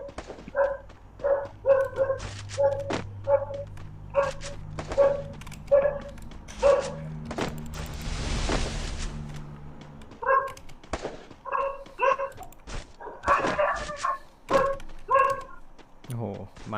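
A dog barks in a quick series of sharp, repeated yaps, fairly close, with a brief hissing noise in the middle and voices talking around it.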